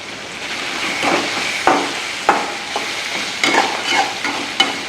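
Curry leaves sizzle in hot oil for a village-style duck roast. A steady close frying hiss is broken by repeated scraping and clinking stirring strokes in an uneven rhythm.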